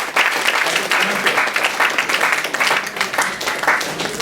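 An audience at an industry relations event of a university biotechnology department bursts into loud, sustained applause, dense overlapping claps filling the room close and full without pause.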